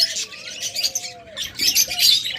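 Pet lutino and classic birds kept in pairs chirp and tweet close by, a busy run of bright calls with some thin whistled notes.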